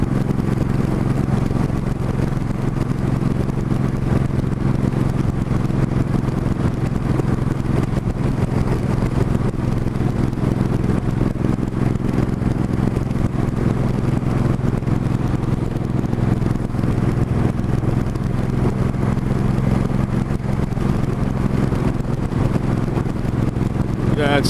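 A motorcycle, not a sports bike with about 17,000 km on it, cruises along a road at highway speed, its engine droning steadily over heavy wind rush for the whole stretch.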